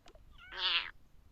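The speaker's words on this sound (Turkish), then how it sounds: "Başka burada kedi var mı?" One clear, close cat meow rises and falls in pitch, preceded by a faint brief chirp, with quiet background and no speech.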